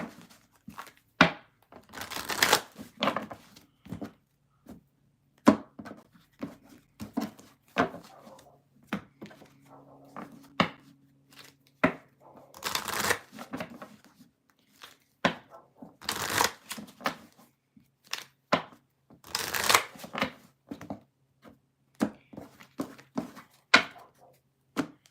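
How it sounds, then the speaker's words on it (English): Tarot card decks shuffled by hand in repeated bursts of riffling and rapid flicking, fairly close, with short pauses between runs and a faint low hum underneath, no talking. "Few more decks to shuffle"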